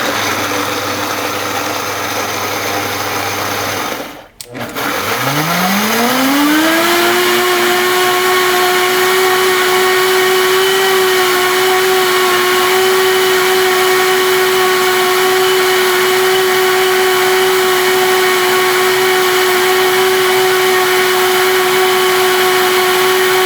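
A blender switched on at full blast with pumpkin seeds inside spins up after a short pause, its motor rising into a steady, loud high whine that holds for about twenty seconds with no talking.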